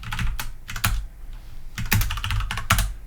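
Someone types on a computer keyboard, a few quick clusters of sharp key clicks with a louder thump mixed in, recorded up close and heard alone without any speech.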